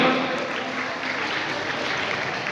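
Clapping from a yoga day gathering runs as a continuous, moderately loud patter for a couple of seconds, with some speech faintly underneath.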